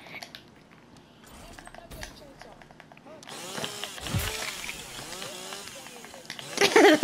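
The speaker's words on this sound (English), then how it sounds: "A chainsaw." A chainsaw in Call of Duty Black Ops 3 revs with a buzzing, fluctuating motor whine that grows louder toward the end, mixed with other game sounds.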